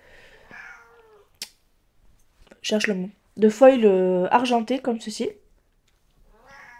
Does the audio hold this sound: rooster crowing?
no